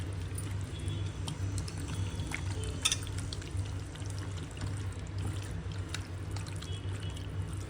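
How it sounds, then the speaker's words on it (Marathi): Oil poured into a chicken marinade in a home kitchen, a soft trickling and splashing pour with faint stirring and handling sounds, close and fairly quiet, with no talk. "आता ह्याच्यामध्ये आपण 1 चम्मच तेल पण टाकायचं आहे।"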